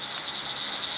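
Frogs croak in a dense, continuous chorus in the Western Ghats, a steady high-pitched trilling wall of calls that is loud and unbroken throughout, with no talking.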